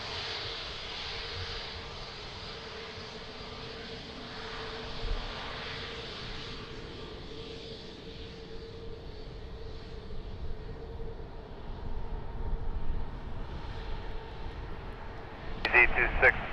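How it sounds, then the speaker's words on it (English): A Portuguese Air Force C-130 transport aircraft at Lisbon Airport gives a steady, fairly distant engine drone that slowly builds in loudness, with a brief clatter near the end. "Portuguese Air Force C130, amazing, what a beast."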